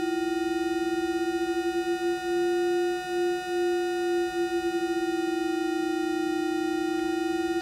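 ArcSyn synthesizer tone with its pitch modulated by an LFO, a steady bright harmonic-rich drone whose pitch wobbles subtly, playing alone without voices.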